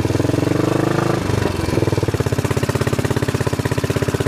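A Royal Enfield motorcycle engine thumps in a rapid, even rhythm, then stumbles briefly as it misses a gear before settling back into a steady chugging beat, close and fairly loud.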